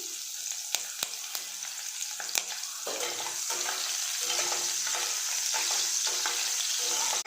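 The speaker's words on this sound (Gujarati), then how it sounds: "મરચાં સંતળાઈ જાય એટલે આપણે તેની અંદર જે સમારેલી ડુંગળી હતી તે નાખીશું" Finely chopped green chillies sautéing in oil with browned garlic give a continuous sizzle, with sharp spatters and clicks early on and a fuller, steadier hiss after the first few seconds.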